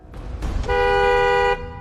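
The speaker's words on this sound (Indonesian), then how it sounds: "Tedo berlari ke mobil dan menyalakan klakson sebagai peringatan." A car horn sounds in a film scene, honked as a warning: one sustained, loud blast of about a second, preceded by brief rustling and movement noise.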